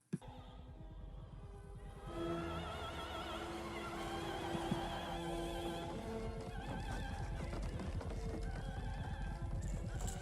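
In a film scene from Apocalypse Now, a horse gives a loud, prolonged whinny over a dense wash of battle and helicopter noise, with clip-clopping hooves close by and the din continuing throughout.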